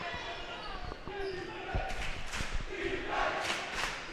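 A fans' cheering section at a girls' class D1 high school basketball final chants and yells in a gym, with ball bounces and sneaker thuds underneath and a commentator talking over the crowd noise.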